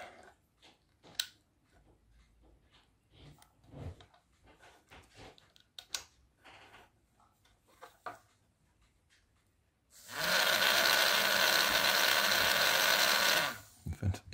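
A homemade inside-out DC motor running on a single magnet gives a few seconds of close, loud, steady buzzing whir. Quiet taps, rubbing and faint handling noises come before it.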